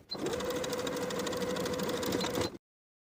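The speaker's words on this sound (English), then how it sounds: "Then we're going to edge stitch that bottom inner fold" A sewing machine edge stitches the bottom inner fold of a pocket on shorts fabric, running steadily for about two and a half seconds before stopping abruptly, close and alone.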